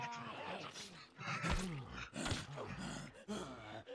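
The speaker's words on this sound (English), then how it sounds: "Why do you make that sound, you terrifying creature?" Zombie groans in The Walking Dead: Saints and Sinners, a horror video game: low, guttural moans rise and fall in several drawn-out bursts over game background noise, loud and close.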